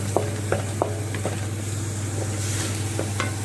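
Spices and tomato paste fry in a pan with a steady sizzle, while a spoon stirs and taps the pan in several sharp knocks, close and continuous, over a low steady hum.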